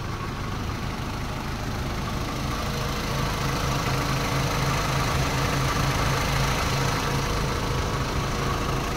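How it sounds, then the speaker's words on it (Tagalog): Engine of a Honda Civic ESi running steadily at idle after being started, a constant close mechanical hum and whir with even vibration throughout and nobody speaking. "So kita nyo ngayon mga kalbularyo ay umaandar ng makina."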